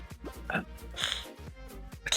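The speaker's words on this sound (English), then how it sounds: "I don't know what thing is making fart noises" Short, low, buzzy fart noises come from a video game, several quick rhythmic blurts in a row, close and fairly clear, with a few higher squeaky sounds mixed in.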